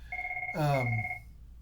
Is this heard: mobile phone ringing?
yes